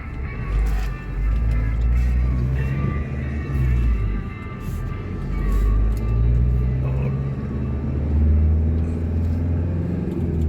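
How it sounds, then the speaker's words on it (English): Truck rolling past on a rural road in Khao Sai, Thailand, its low engine rumble swelling and fading in broad waves across the whole stretch, fairly close and steady under faint background sound. "Oh, truck's coming."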